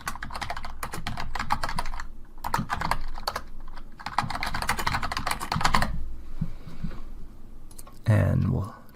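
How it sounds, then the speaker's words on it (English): Fast bursts of clicky computer keyboard typing come in several runs separated by short pauses, heard up close with a louder thump at the end. "So let's just type some text here."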